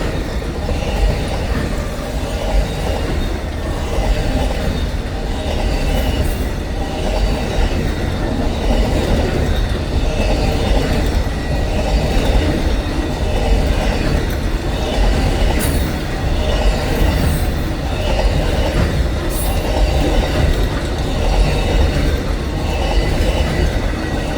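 The Amtrak Auto Train rolls past on CSX tracks in Satsuma, Florida, a loud continuous rumble of railcars with rhythmic wheel clatter and occasional squeals throughout.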